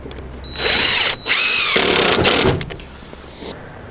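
A power drill drives screws up through the underside of rustic barn door boards, two loud whirring bursts with a brief pause between, then fading to quiet shuffling.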